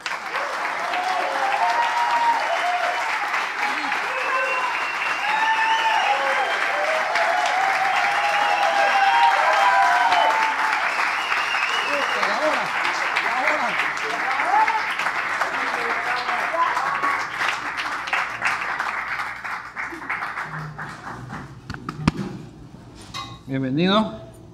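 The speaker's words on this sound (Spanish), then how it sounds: "los invito a todos a recibir con un enorme aplauso al invitado de esta noche" Sustained audience applause fills the room for about twenty seconds to welcome lawyer Jaime Nebot as tonight's guest at a live show, then fades into scattered handling noises and brief talk near the end.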